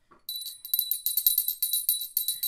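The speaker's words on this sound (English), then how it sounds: "She's going to get us to ring the bell" A bicycle-style bell rings rapidly and repeatedly for a lottery scratcher win, a bright continuous tinkling trill lasting over two seconds, close and fairly loud.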